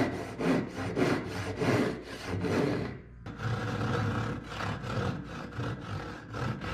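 A hand saw cuts through a wooden shop shelf with loud, rhythmic back-and-forth rasping strokes close by, briefly pausing midway before the steady sawing resumes.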